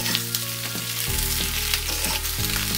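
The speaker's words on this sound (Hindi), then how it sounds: "शिमला मिर्च को भी डाल दूँगी, हाई फ्लेम पर पकाना है।" Sliced capsicum and onions fry on a high flame for chilli gobi, giving a loud, steady sizzle close up with occasional scraping stirs and no talking.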